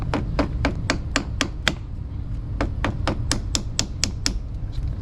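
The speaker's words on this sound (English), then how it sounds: "just use a regular hammer and" Sharp metallic hammer blows strike a Talaria Sting electric bike's axle in a quick, steady series, about eighteen close, loud taps with a brief pause partway through.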